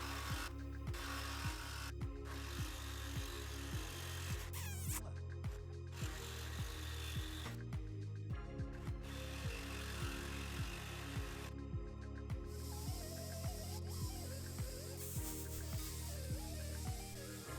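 A power tool cutting through a steel sway bar link stud on a car, a loud continuous grinding whine close by with rapid rhythmic pulsing and a few brief dips as the cut progresses.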